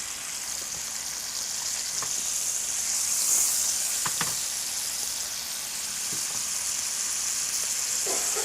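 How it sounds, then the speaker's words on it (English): Collard greens cooking down with cider in a pan give a steady, moderately loud sizzle and hiss, broken by a few soft knocks and stirs, with no talking. "Our collard greens are cooking down nice and tender now."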